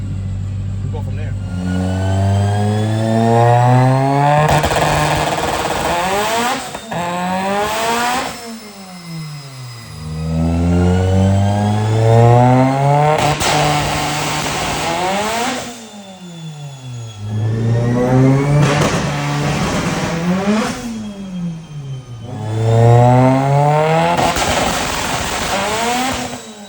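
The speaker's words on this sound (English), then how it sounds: "Rolling anti-lag, all those pulls, cruising, idling, hitting rev limiter, everything." A Mitsubishi Evo with a Haltech tune revs up and drops back repeatedly in long sweeping pulls, with rolling anti-lag crackling pops between revs, loud and close.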